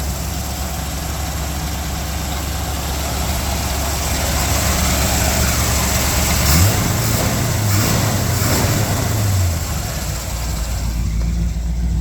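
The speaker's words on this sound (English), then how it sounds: "Really love the sound of the exhaust." A 1959 GMC pickup's 327 V8 engine idles steadily with a deep, rumbling exhaust burble, rising briefly in a light rev before settling back to idle.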